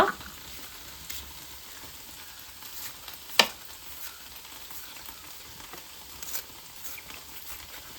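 Onions frying in a pan alongside green chilies cut lengthwise, giving a faint, steady sizzle with one brief clink partway through and no talking.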